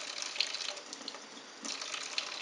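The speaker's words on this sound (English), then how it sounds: "Let's go ahead and add the water." Three tablespoons of water trickle and splash softly into a bowl close by, a light, uneven pouring sound with small bursts.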